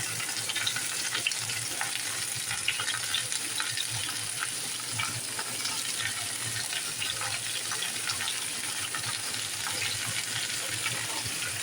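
Peeled mangoes being stirred slowly in a pan for a sweet mango pickle with jaggery, giving a dense, even hiss and crackle that runs steadily throughout with faint scraping and no speech.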